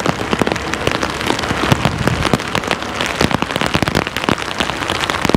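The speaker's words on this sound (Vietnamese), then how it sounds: "Ồ, mưa to luôn rồi." Heavy rain pours steadily on a mountain pass road near Bao Loc, Vietnam, dense drops drumming hard on a surface throughout, loud and close with no voices.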